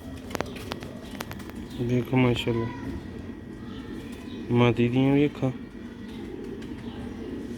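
Pure-bred Sialkoti pigeons, including a female, give two bursts of throaty, rolling coos close by, while someone speaks over a steady background murmur.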